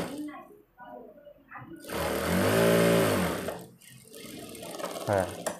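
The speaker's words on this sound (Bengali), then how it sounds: "এভাবে সোজা করে একটি সেলাই করে নিলাম।" A domestic sewing machine runs in one steady burst of rapid stitching while sewing a straight seam on a garment neck design, loud and close, with a voice speaking briefly before and after.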